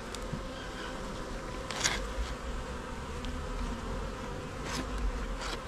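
Honey bees buzzing steadily around Apidea mating boxes, a dense continuous hum with occasional louder passes of individual bees close by, no talking.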